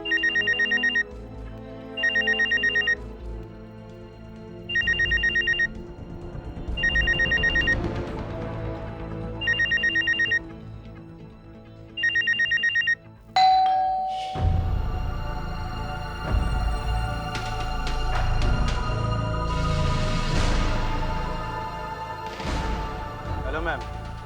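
A telephone rings unanswered in repeated regular bursts, each electronic trill pausing before the next, followed by a louder stretch with people talking over dense background sound.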